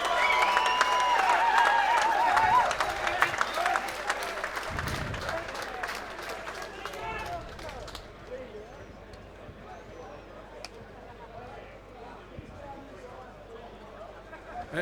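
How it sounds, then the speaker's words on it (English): Crowd applause and cheering after a fight at an EFN 6 combat sports event in Bridgeway, loud dense clapping through the first half that thins and fades into scattered claps and murmur, with voices in the mix. "a round of applause for these 2 warriors."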